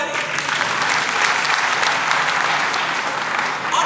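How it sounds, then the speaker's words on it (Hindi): An audience at a large stage event breaks into loud, sustained applause, a dense continuous wall of clapping from a big crowd with no pauses. "सो उसके लिए ताली भी हो जाए।"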